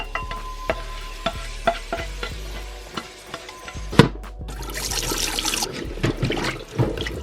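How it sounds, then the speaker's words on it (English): Water splashes and runs in a frying pan being washed out at a kitchen sink, with clatters, scraping and a steady rushing of water in the second half. "and then wash out the pan because we'll need it again"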